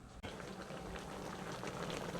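A turkey neck boiling in a pot of water at a Jamaican street food stall, giving a steady, faint bubbling hiss that continues without a break.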